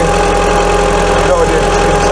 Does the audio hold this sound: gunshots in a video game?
no